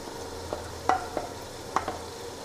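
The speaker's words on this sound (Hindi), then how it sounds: "इनकी भी हम तकरीबन 1 मिनट तक भुनाई कर लेते हैं" Green chillies and chickpeas sautéing in a pan, with a few soft spoon-scrape stirring clicks spaced over a faint, steady sizzle; quiet and close, no voices.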